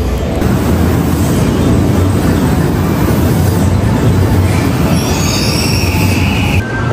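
A train at a station in Japan: loud, close, continuous rumble of rolling carriages with high, drawn-out wheel squeal rising near the end. No one speaks.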